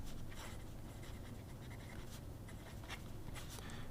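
A broad Diplomat fountain pen nib glides across paper in short scratchy strokes, a faint close whisper of writing over low background hiss.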